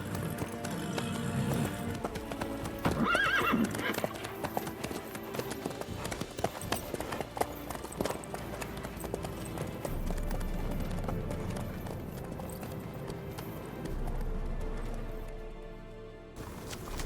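Horse hooves in The Witcher 3 video game beat in a steady clip-clop gallop across the whole stretch, loud and close, mixed with game music and ambience.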